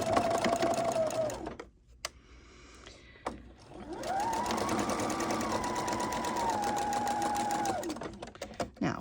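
A home sewing machine stitches through quilt block fabric for a pinwheel quilt, a fast even whirring hum that runs, stops for a moment, then starts up again and keeps going close and steady.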